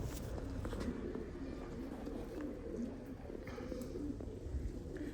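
Domestic blue-barred pigeons kept by a fancier coo in a low, continuous murmur, a steady close chorus with no talk over it.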